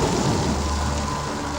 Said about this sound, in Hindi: खिड़की से आने वाले तूफान का शोर